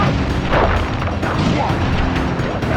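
Booming, crackling firework blasts from a flame attack in the Sly Cooper video game, a dense run of explosive bursts and pops with no gaps, loud and close, with game music and effects layered underneath.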